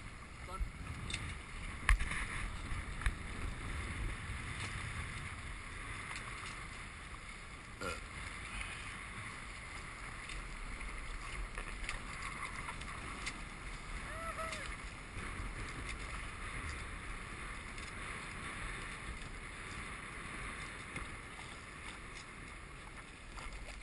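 A Hobie sailboat drifts slowly across a lagoon, with soft water lapping against the hull and gusty wind buffeting the microphone in a steady low wash, along with occasional faint bumps.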